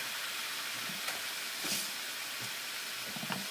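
A pork chop sizzles in a pan heated just above medium, giving a steady close hiss with faint crackles and pops throughout, no voices.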